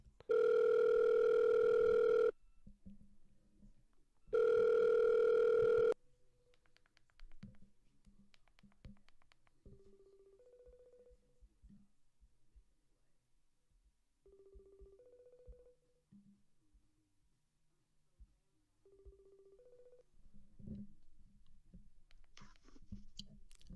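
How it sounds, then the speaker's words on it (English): Telephone dial tone while a guest is called during a live Raptors–Spurs basketball watch-along stream: two loud steady tone bursts, then quieter dialing beeps and clicks before faint line noise. "But time to dial up Magnetic to end off the halftime hot takes segment."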